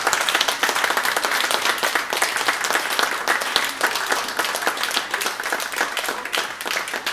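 An audience at an opera night applauds, dense and sustained clapping filling the whole stretch at close range, steady in loudness with no voices standing out.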